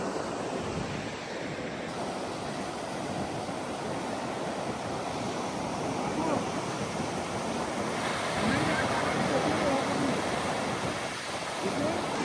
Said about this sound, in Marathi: किती सुंदर आणि किती लांबलचक अशी ही गावखडी समुद्राची किनारपट्टी आहे